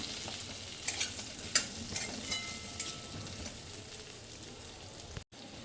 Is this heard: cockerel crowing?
no